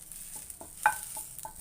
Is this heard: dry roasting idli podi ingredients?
yes